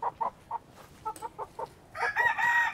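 Hens cluck in short, separate bursts inside a warm coop, close by, followed by a louder, drawn-out squawking call near the end.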